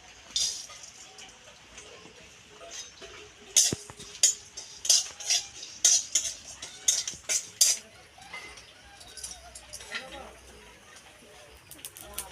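Cumin and whole cardamom rattle and scrape in a dry kadai, with a run of sharp metallic stirring clinks in the middle and a faint background hum.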